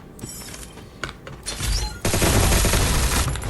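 Automatic gunfire in the Free Fire battle game, rapid bursts building into a loud, dense sustained volley with mechanical clicking, heard close without speech.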